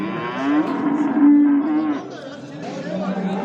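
A dairy cow lowing at a crowded livestock market in Göksun, Kahramanmaraş, one long drawn-out moo rising and falling over a steady din of background chatter and crowd noise.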